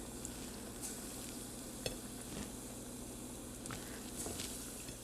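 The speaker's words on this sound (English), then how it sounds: "put them in some hot oil" Falafel balls frying in hot avocado oil, a continuous close sizzle and bubbling with a few soft clinks and stirs, no talk.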